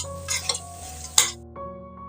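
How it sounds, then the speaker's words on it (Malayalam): Rice is stirred in a pan with a spoon, a few close scraping strokes and a sharp clink against the metal over a faint steady hum. "ഈ അരി ഒന്ന് നമുക്ക് ഇതുപോലെ ഒന്ന് ഇളക്കി കൊടുക്കാം."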